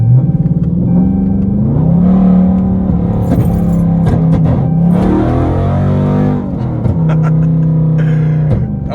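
A tuned Dodge 392 Scat Pack V8 revving hard and accelerating, a loud close growl that climbs through the revs, dips between shifts and rises again, heard from inside the car.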